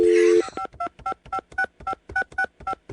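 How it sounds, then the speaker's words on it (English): A telephone line tone gives way to a rapid run of about ten touch-tone dialing beeps in an even rhythm, loud and close, on a cartoon's magic phone. "can we place phone calls to... It's a magic phone, Tom."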